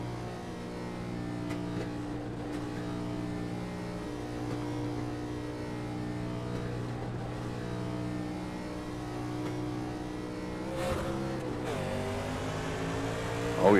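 Race cars in an oval racing video game roar at steady high revs, several engine tones droning together at a sustained level, with a brief rising rev burst and shift near the end.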